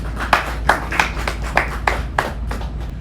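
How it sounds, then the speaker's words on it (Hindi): Scattered hand claps, about a dozen sharp slaps at an uneven rhythm, like a small group clapping over a low hum. "एक बार सर के लिए फिर से जोरदार तालियां।"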